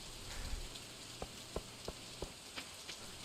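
Soft rain falls in the farming game Stardew Valley, a faint steady patter with a handful of distinct droplet ticks spaced through it.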